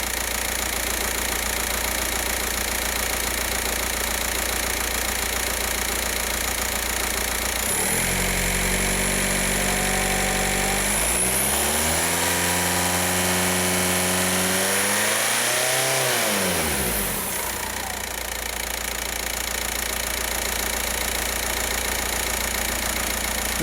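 A Volkswagen Passat with the BHW diesel engine, showing MAF and boost-pressure fault codes, idles steadily, then is revved in two rising-and-falling bursts before settling back to a steady close-up idle.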